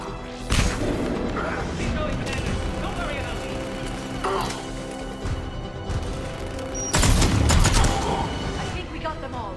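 Gunfire and explosions hit Cerberus turrets in the video game Mass Effect 3, with steady shooting, clattering impacts and two loud bursts near one second and seven seconds, all under the game's music and voices.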